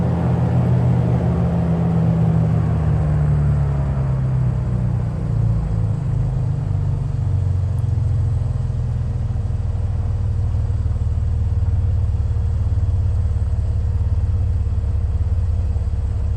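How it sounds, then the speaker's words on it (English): In Microsoft Flight Simulator 2020, a Mooney Ovation engine is throttled back to idle. A steady, loud, close engine rumble drones on throughout, its tone sagging slightly early on as it settles, with no talking. "good, and we'll throttle back to idle."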